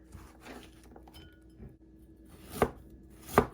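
A knife slices beef thinly on a cutting board, a few soft cuts followed by two sharp, distinct knocks of the blade striking the board near the end.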